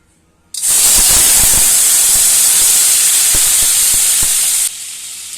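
Goat fat hits a hot pan and bursts into a loud, sustained hiss and sizzle, with scattered pops and crackles throughout before the sound drops off suddenly near the end.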